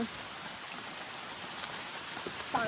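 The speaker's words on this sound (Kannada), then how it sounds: "ಏ ಮಳೆ ಜೋರಾಯ್ತು" Steady hiss of heavy rain falling continuously on a farm, a dense even wash of water noise with a few brief louder patters near the end.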